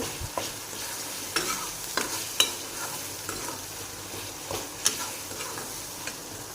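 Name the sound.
tomatoes frying in oil with salt and turmeric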